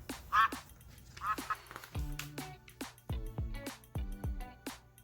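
A human voice imitates a duck quacking, giving a quick series of nasal, raspy quacks that come close and clear against a quiet background.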